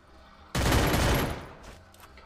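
A burst of automatic gunfire in the video game Free Fire, one loud dense volley lasting about a second that then fades, with no talk over it.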